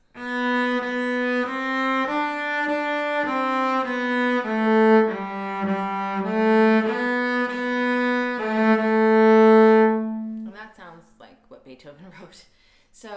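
Cello plays a Beethoven melody with a dotted rhythm, bowed notes in a lilting pattern for about ten seconds, then a person speaks.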